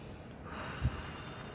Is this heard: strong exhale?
yes